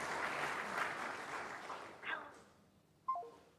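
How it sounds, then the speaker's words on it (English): Applause from a conference room audience at a Drupal event fades over about two seconds, followed by a couple of short electronic phone tones. "Because everyone was applauding"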